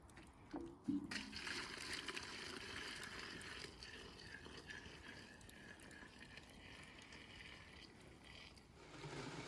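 Maple sap sloshes and pours steadily into a pot, quiet and close, with a faint knock at the start.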